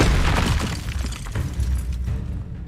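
A Bombarda spell explodes in Hogwarts Legacy, a loud, booming blast with shattering debris that rumbles on for a couple of seconds and then gradually tails off.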